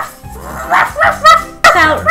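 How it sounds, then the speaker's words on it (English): A dog barks in a few short, close bursts, with a voice mixed in among the barks. "This dog just came out of nowhere."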